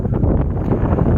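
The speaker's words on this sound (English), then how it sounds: "The wind seems to be making a little bit of noise through here." Wind blowing through the plastic pieces of a telescope mount makes a steady, close, low buffeting rumble that fills the whole moment without pause.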